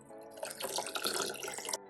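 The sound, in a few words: cooled boiled water poured into berry puree for kvass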